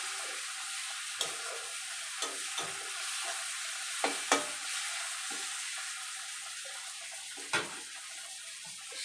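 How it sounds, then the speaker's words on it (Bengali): Chopped tomato and spices sauté in a pan over a medium gas flame, a steady quiet sizzle with occasional soft clinks and scrapes from stirring and no voices. "গ্যাসটাকে আমি মিডিয়াম ফ্লেমে রেখে ভালো করে মশলাটাকে কষিয়ে নেব।"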